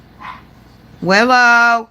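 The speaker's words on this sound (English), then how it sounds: "You don't need to bark at everybody that goes by just because you want to say hi to them." A dog gives a short bark at people passing by, then a person calls out loudly and clearly over it.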